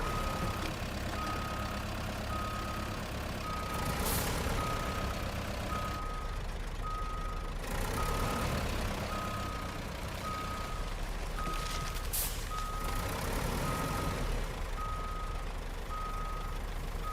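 Steady, evenly spaced reversing beeps from a truck in the off-road driving game RoadCraft, repeating throughout over a constant engine rumble, with brief hissing bursts between them.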